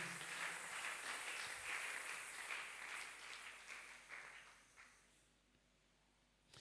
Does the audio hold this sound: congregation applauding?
yes